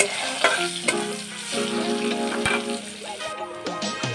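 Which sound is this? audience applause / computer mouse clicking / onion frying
onion frying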